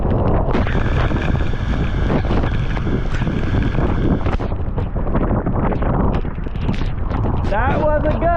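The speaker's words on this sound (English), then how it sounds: "That was a gust." A strong wind gust during Hurricane Ian in Charleston, South Carolina, blasting loudly and continuously into the microphone, with heavy low-end buffeting and wind-driven rain noise. A faint whistling tone also comes through.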